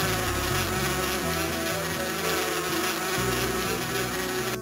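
A continuous swarm of bees in the Erben der Erde video game buzzes loudly and steadily, with a low looping melody underneath and no talking.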